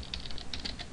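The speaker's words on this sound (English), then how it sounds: "I need to type this slow before I teach you." Typing on a computer keyboard while coding in Java, a quick run of light, close key clicks in an uneven rhythm with no talking.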